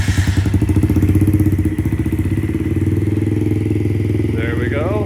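A Yamaha TT-R50E dirt bike engine, choke on in cool weather, starts on the electric start button and settles into a steady, close, loud idle with rhythmic thumping pulses.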